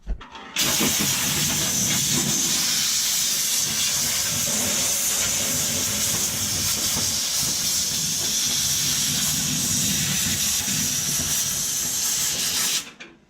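Compressed air blows out debris from the gap under a body panel during a 1970 Plymouth 'Cuda rebuild, a loud steady hiss lasting about twelve seconds before cutting off.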